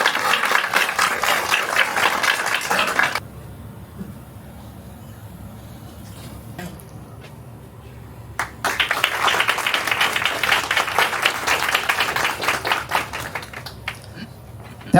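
A gathering at a Ganesh Chaturthi welcome celebration bursts into sustained clapping for a guest, dense and moderately near, fading to a quiet lull with a few scattered claps before a second strong round of applause.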